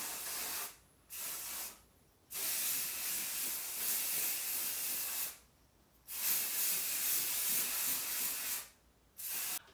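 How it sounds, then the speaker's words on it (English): Ouidad dry shampoo hisses out of an aerosol can onto hair in several sustained bursts of varying length, separated by brief pauses, close and fairly quiet with no talking. "So I'm gonna open it and like give my hair some little nicer spray."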